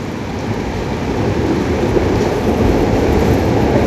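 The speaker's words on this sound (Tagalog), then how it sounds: "Patuloy ang pag-ulan mga kababayan." Heavy, dense rain pours steadily during street flooding in Manila, a loud continuous roar with a deep rumbling undertone and no voices.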